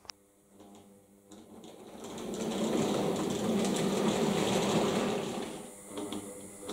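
A Fleischmann model train hauled by a BR 24 steam locomotive runs along a layout, a steady rolling rumble that builds, holds loud, then eases slightly.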